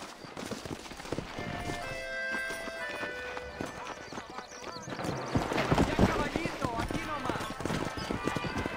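Horse hooves clip-clopping at a brisk pace in the Red Dead Redemption video game, a continuous rhythmic beat that grows louder toward the end, heard under voices talking and a brief whinny.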